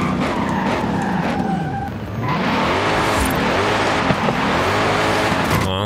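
A race car in Forza Horizon 5 roars at high revs with sustained tyre squeal and skidding. Gear shifts make the engine pitch dip and climb again, loud and close throughout.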